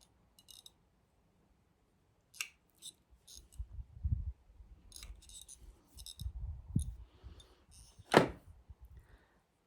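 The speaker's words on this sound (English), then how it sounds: "so I'm doing this with snips." Garden snips cut plant cuttings, giving several crisp, close snips spread through the clip, with one loud sharp cut near the end and soft rustling between them in a quiet space.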